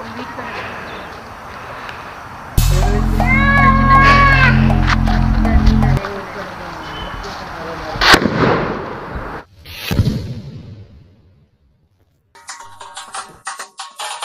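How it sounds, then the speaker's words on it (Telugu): A sutli bomb, a firecracker wrapped in twine, goes off outdoors. A sustained loud roar is followed by sharp bangs and crackling bursts. People talk nearby. "చూసారు కదా ఫ్రెండ్స్, సుధీల్ బాంబు అయితే ఎలా వెళ్ళిందో"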